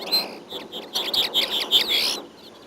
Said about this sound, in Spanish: la actividad de los pájaros está